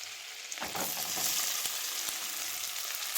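Onion tipped into roasted masala in a pan, a burst of frying then a steady hiss with a few soft stirring knocks, close and alone without speech.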